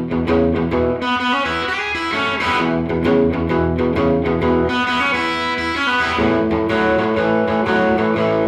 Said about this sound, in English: Out of the AC30 over into a real white trash hillbilly guitar amp, which is the old blackface Fender Super Reverb.